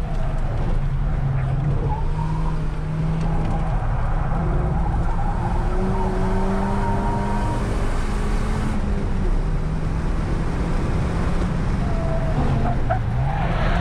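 A car launching and accelerating hard on a race track, its engine note climbing through gears with rising and falling whines, tires squealing, loud and continuous for about fourteen seconds; the cars involved are a Ford Fiesta ST and BMW M850i.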